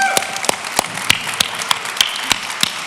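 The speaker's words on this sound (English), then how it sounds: "let's give them a round of applause." Audience applause at a startup competition finals on a main stage: steady crowd clapping fills the room, with sharp individual claps standing out in a regular beat above the wash, and a brief voice early on.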